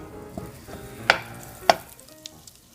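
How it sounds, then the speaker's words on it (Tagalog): Butter melts in a hot pan (kawali) with a quiet sizzle, broken by two sharp metallic clanks and scrapes from a utensil against the pan. "mag-melt naman po tayo ng butter"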